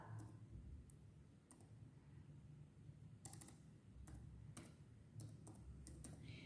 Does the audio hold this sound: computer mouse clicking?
yes